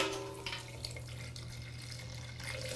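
Water running out of a cider racking tube during primary racking of apple cider, a steady close trickle and splash with a low constant hum underneath, no talking.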